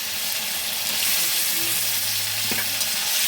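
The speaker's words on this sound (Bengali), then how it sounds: "আর আলুটা কষাতেই থাকবো" Potatoes sizzle steadily in hot oil with spice masala and a little water, a loud, continuous frying hiss with occasional soft stirring scrapes.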